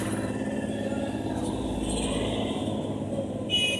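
Engines of racing cars in a video game hum loudly and continuously with a rough, revving drone and slight shifts in pitch, heard on their own.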